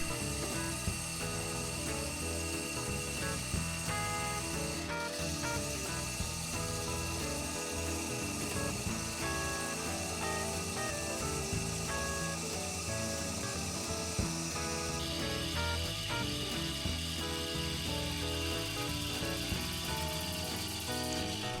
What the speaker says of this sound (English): I'm using a parting tool to split the ring.